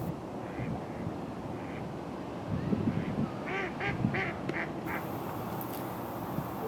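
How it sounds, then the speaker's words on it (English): Mallard ducks quack in a short series of calls midway through, heard over a steady low outdoor rumble with faint wind, no talking. "it would make a lot of sense if the ducks were calling out about the eagle that's flying over"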